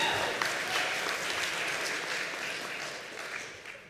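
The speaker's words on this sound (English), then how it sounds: "you can clap for that too." A congregation at its annual meeting claps after a budget announcement, a broad, steady wash of applause from a roomful of people that fades slightly toward the end.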